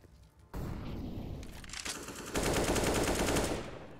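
Rapid bursts of rifle fire from a wall bang in Counter-Strike on the Vertigo map during a pro match, a dense crackling volley that grows louder and fuller midway before easing off at the end.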